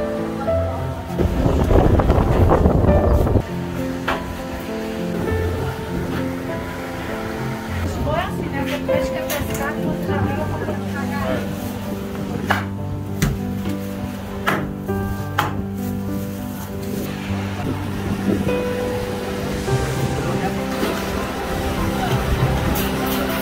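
Sea waves wash continuously at a beach in Baía Formosa, Rio Grande do Norte, at high tide, mixed with wind buffeting the microphone, while people talk nearby.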